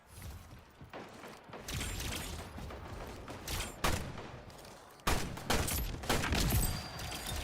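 Rapid gunfire from the arena shooter Splitgate crackles in dense, close bursts, with sharp shots, mechanical clicks and impacts stacking up in quick volleys that grow louder toward the end.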